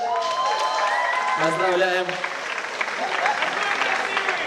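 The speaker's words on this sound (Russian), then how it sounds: "Аплодисменты." Party crowd applauding at a birthday celebration, a steady wash of clapping and cheering throughout, with a voice talking over it near the start.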